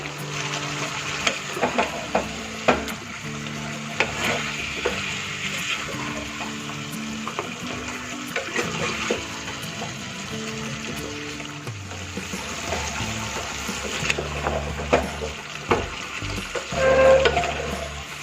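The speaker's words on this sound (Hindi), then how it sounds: "इसे हाई फ्लेम पे 10 से 15 मिनट तक इसे भूनना है।" Restaurant-style chicken curry being fried over high flame, with a steady loud sizzle running throughout, broken by the scrape and clatter of stirring.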